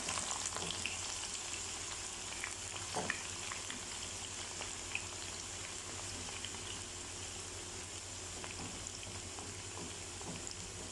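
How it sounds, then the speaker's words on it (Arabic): Onions fry in oil for lamb mandi, a steady dense sizzle with fine crackling pops throughout, close and even in level, with occasional faint stirring clicks and no voices. "ببدا اقلي البصل"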